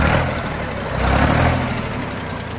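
A secondhand engine idles quietly and steadily for a few seconds, a low continuous hum with a slight swell midway and no talk.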